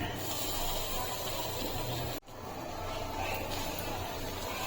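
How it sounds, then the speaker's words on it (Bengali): A mixture of flour and milk hits melted sugar in a pan for sohan halwa, giving a loud, steady sizzling hiss that briefly drops out, then resumes. "গ্যাসটাকে অফ করে দিয়ে তারপর আমি সেই ময়দা আর দুধের মিশ্রণটা দিয়ে দিচ্ছি।"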